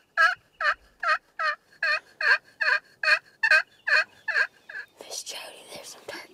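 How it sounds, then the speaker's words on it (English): Wild turkeys gobble outdoors after rain, a rapid series of about a dozen loud, close, regularly spaced gobbling bursts followed by a rougher, noisier scuffle of calls at the end. "Miss Jody, there's some turkeys right there."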